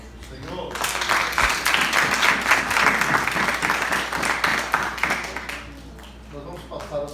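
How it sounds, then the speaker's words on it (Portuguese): A church congregation claps together in a sustained round of applause, the dense patter building quickly and holding strong before thinning out toward the end. "Uma salva de palmas para o Senhor."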